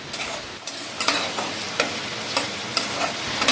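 Tomato stir-fried with cumin, turmeric and chili powder, the spatula scraping the pan in distinct strokes roughly every half second over a steady close sizzle.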